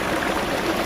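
Water gushes from a borewell on a village farm plot, a steady, close rush and splash of flowing water with no pauses.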